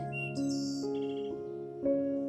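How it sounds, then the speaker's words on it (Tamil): Small birds chirp and tweet in short bright calls over a steady tonal musical background, a few distinct chirps spread across a brief moment, fairly close and clear. "அதுல மீனு அப்படிங்கிற பெண் புறாவும் பிங்கி அப்படிங்கிற குருவியும் வாழ்ந்துகிட்டு இருந்துச்சு."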